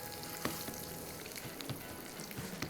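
An omelette paratha fries in oil on a low flame, a soft steady sizzle with scattered crackles and a few sharper pops, close but quiet, with no talking.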